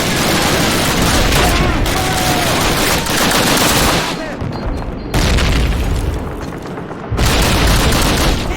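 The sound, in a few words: gunfire in Call of Duty video game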